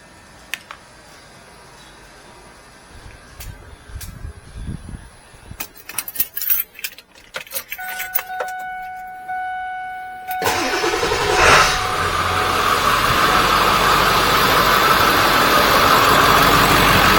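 Car keys jangle in the first seconds, then a car engine cranks and starts, settling into a steady, fairly loud idle that runs to the end.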